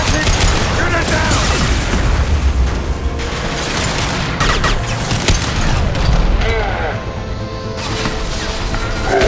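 Gunfire and blasts from a Mass Effect battle, a dense, continuous barrage of shots, crashes and explosions at close range, with voices speaking at times under the din.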